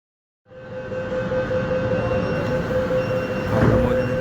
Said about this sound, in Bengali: হাওড়া ময়দানের দিকে ছেড়ে যাওয়ার জন্য ট্রেন রেডি, একটু পরেই ছেড়ে যাবে।